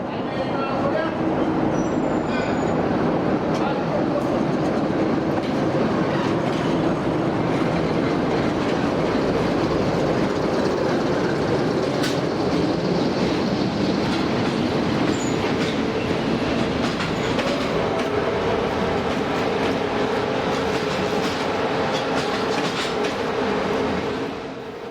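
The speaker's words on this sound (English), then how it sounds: "freight loco number 641359 heads east" A freight locomotive hauls its train east past Nicolina, just south of Iași, in Romania. It makes a loud, steady, close rumble with rhythmic clickety-clack from the wheels on the rails, sustained for the whole stretch.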